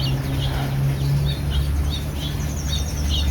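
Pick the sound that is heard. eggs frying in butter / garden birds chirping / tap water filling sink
garden birds chirping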